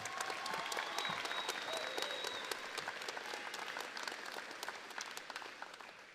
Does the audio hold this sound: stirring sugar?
no